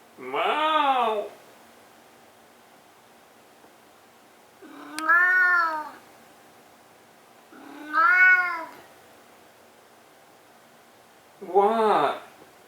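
A cat meows four separate times, each a drawn-out, clear call spaced a few seconds apart in an otherwise quiet room.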